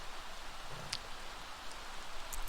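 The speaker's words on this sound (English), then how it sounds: "I hate it that it's raining." Steady rain falls outdoors on an early fall day, a soft continuous patter with a few brighter drop ticks.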